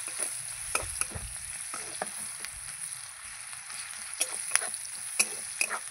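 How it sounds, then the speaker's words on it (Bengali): Chopped onions frying in a pan while being stirred, a steady close sizzle broken by repeated clicks and scrapes of the spatula, with no voices. "পেঁয়াজ কুচিটা দিয়ে ভালো করে নাড়াচাড়া করে নেব।"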